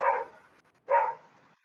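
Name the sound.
small dog barking through an open microphone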